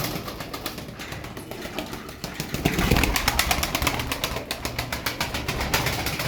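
Turkish playing pigeons cooing and flapping, a soft continuous bird bed with rapid fluttering wingbeats that grow louder midway, close and without talk.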